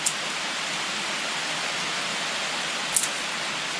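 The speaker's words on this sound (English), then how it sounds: "Rain feels great," Steady rain falls on a porch roof at a deer camp, hissing evenly throughout, a dense wash of broadband noise with a couple of brief sharper ticks near the start and end.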